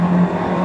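A Formula One car engine in the Pro Racing simulator game at an indoor esports racing stand gives a very short, loud, steady drone.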